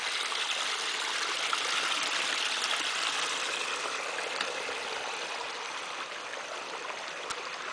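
A clean mountain stream runs over rocks in a steady, full rush of water. The sound is close and continuous with no talking.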